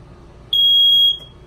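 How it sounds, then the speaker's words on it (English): A single loud, piercing electronic beep of about half a second comes from a smoke detector inside a 2017 Keystone Raptor 425TS RV, against quiet background. "All right, you got a smoke detector right here."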